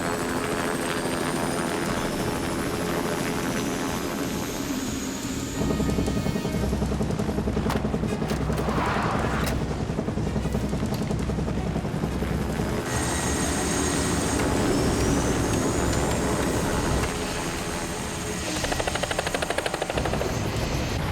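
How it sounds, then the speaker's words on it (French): Loud helicopter rotors thump and whine continuously, engines building up as the aircraft lift off, with occasional shifts in pitch. "Faites-moi décoller ces hélicoptères tout de suite."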